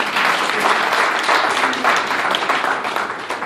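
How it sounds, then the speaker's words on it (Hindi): Audience applause at a farewell ceremony: a dense, continuous patter of many hands clapping, loud and close, sustained evenly throughout with no talk. "मैं मित्रगण से अनुरोध करूंगी तालियों के साथ"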